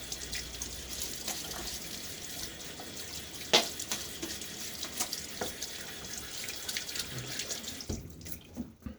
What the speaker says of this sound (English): And a little quick rinse.